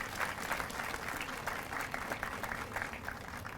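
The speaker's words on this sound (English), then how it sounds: "I think that deserves some applause" Audience at a center opening event clapping, a dense steady round of applause from a crowd, sustained throughout.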